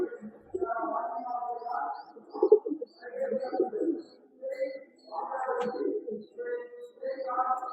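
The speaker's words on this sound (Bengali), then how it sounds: "পায়রা দেখলেন" Madrasi and Giribaj pigeons coo close by in a loft, a steady run of low, rolling coos that overlap and pause briefly, with a few higher chirps scattered through.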